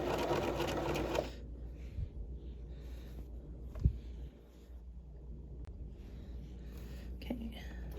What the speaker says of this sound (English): I can begin to curve my fabric up as I feed it into the machine